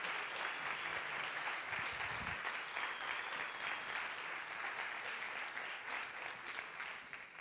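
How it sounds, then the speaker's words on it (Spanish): Sustained applause from a live audience welcoming a speaker at a science talk event, dense steady clapping that holds at an even level throughout before easing slightly at the end. "Os pido que le recibáis con un súper fuerte aplauso."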